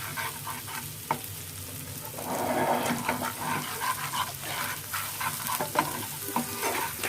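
Spices with salt frying in a pan over medium heat, a steady sizzle with scraping stir strokes and occasional clinks, no talking.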